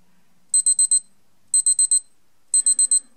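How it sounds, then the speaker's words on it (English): The alarm of a Seiko Arnie SNJ025 Prospex watch sounds in three bursts of four rapid, shrill electronic beeps. They are loud, close and alone. "let's have a little listen to how loud the alarm is"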